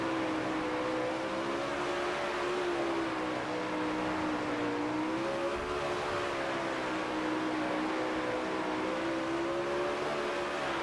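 A 360 sprint car engine in World of Outlaws dirt racing drones in a loud, continuous roar. Its pitch rises and falls slightly as the throttle is eased and reapplied, with no break and no voices.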